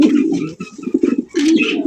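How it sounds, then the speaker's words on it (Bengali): Racer pigeons, among them a white grizzle, coo close by in soft, rolling, repeated calls that run almost without a break through the short stretch. "দেখেন চমৎকার আরো একজোড়া রেসার কবুতর"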